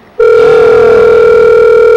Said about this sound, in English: I'm trying to get somebody to answer the phone.